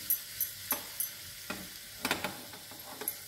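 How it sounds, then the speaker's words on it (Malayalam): Chili and garlic frying in hot oil for a Kerala spinach thoran, a soft close sizzle with intermittent sharp stirring clicks and scrapes of a spoon against the pan, no talking. "എണ്ണ നന്നായി ചൂടായതിന് ശേഷം ഈ ഒരു ചെറിയ സ്പൂണിൻ്റെ അളവിൽ 2 സ്പൂൺ മുളകും വെളുത്തുള്ളിയും കൂടി"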